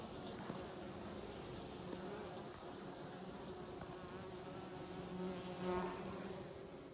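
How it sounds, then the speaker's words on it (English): Dense, continuous buzzing of many honeybees flying close around their hives, a steady droning hum with slight swells in intensity. "the bees are coming and going so quickly"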